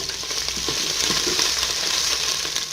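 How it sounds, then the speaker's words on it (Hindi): Ginger garlic paste fries in a pot with onion for Kabuli chana pulao, giving a steady close sizzle with soft stirring scrapes and no talking. "अब इसके अंदर हम अदरक लहसुन की पेस्ट शामिल करेंगे"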